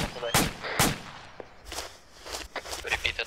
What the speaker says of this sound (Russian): Слышу стрельбу.